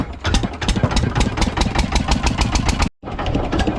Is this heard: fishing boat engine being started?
yes